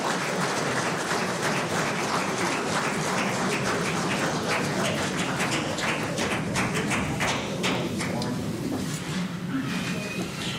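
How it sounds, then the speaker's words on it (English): Sustained audience applause fills a swearing-in ceremony for cabinet ministers, dense steady clapping from a sizable crowd in an indoor hall, holding evenly throughout with a faint voice emerging near the end. "Ladies and gentlemen, the Minister of Foreign Affairs, one more time, please, a round of applause."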